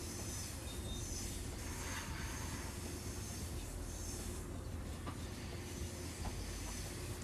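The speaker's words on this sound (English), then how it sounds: "That train's making noise, and I don't need to lean out the window or even have the window open to hear it." A passing train in the Train Sim World 4 game, Long Island Rail Road route, gives a steady rolling rumble with rail hiss and a faint wheel squeal, constant and fairly close throughout.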